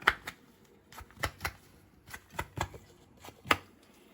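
Hot layered paratha patted and struck by hand on a surface, a run of soft, irregular slaps and thuds spaced a fraction of a second apart, close and quiet.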